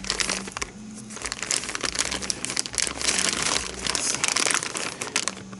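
Crinkling plastic parts bag from a TLR 22 5.0 AC RC buggy kit, handled up close in steady crackling bursts with no talking.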